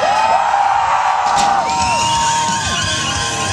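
A crowd at a state fair BMX freestyle show screams and whoops loudly and without a break. Shrill children's voices rise and fall over the dense roar.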